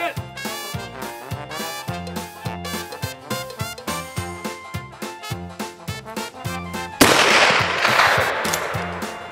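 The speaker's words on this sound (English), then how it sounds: "Well, Dusty, he has chosen an 1886 lever action Winchester" Rapid series of sharp, loud rifle shots from an 1886 Winchester lever-action at a shooting competition, evenly spaced in a fast rhythm, ending in a louder, noisier burst.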